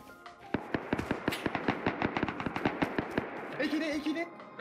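AK rifle fire in Rust, a fast string of sharp, loud shots in steady rhythm, close by, with a voice coming in near the end.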